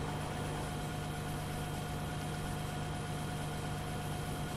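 A tractor engine idles in the Farming Simulator 2013 video game, giving a steady, droning hum with a constant tone that runs unbroken throughout, and no talk over it.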